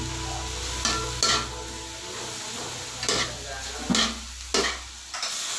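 Bicol Express being stirred in a frying pan with two ladles: a steady low sizzle underneath, broken by several close, scraping stir strokes at uneven intervals.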